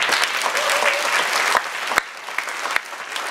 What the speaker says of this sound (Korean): 수고 많은 우리 학생 리더십 특별히 더 많이 수고하는데 큰 박수 한번 쳤으면 좋겠습니다